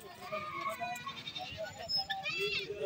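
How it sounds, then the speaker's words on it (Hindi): Goats packed into a tempo at a village goat market in Ormanjhi, Ranchi bleat repeatedly in short wavering calls, mixed with someone talking over the crowd noise. "टेम्पो के अंदर ढेर सारी बकरी है"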